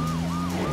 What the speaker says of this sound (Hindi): अरे वो देखो, पीछे पुलिस की गाड़ी।